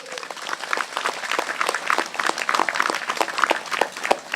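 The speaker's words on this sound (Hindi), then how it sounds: "तालियां बजाइए" An audience at a worship service applauds, a dense, steady wash of many hands clapping at close range throughout, with no speech over it.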